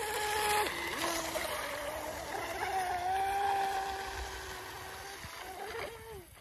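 A radio-controlled model boat runs at high throttle on a pond, its small engine giving a steady, high buzzing whine that rises and dips in pitch as it turns.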